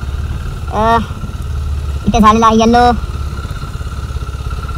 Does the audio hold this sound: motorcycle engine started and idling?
yes